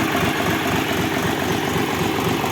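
A Dongfeng 244 tractor with a KM385BT engine idles close by, a steady, dense diesel chug with constant vibration and no pauses.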